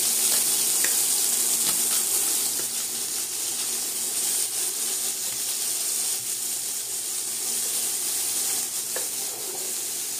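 Scallops searing in a hot pan give a loud, steady sizzle close up, with faint scraping and stirring clicks scattered through the constant hiss.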